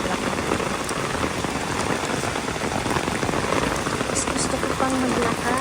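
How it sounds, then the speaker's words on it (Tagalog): Heavy rain pours steadily in Singapore near Great World City Mall, a dense continuous hiss of drops on surfaces with a brief faint voice in the background. "Gusto ko pang maglakad dito sa ulan."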